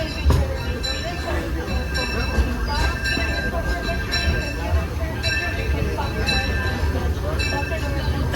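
Disneyland Railroad steam train rolling into a station, a loud steady rumble of wheels and carriage noise with faint metallic clinks and squeals, while a voice talks over it.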